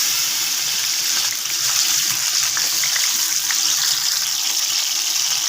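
Masala gravy for bhindi masala being poured slowly into hot ghee, a continuous loud hissing sizzle that holds steady throughout with no voices.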